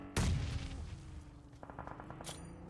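Grenades burst in a PUBG Mobile esports match: one heavy close blast opens, followed by a rumbling tail and a scatter of lighter pops and crackles, with a sharp bright crack near the end.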